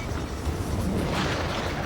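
Dull, rumbling blast from an explosion in the jet combat video game Ace Combat 7, a dense low roar filling the short moment steadily without any talk over it.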